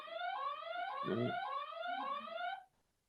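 A child's wristwatch alarm beeps in a steady, rapid electronic warble for about two and a half seconds before cutting off, close and fairly loud, with a brief voice sound in the middle.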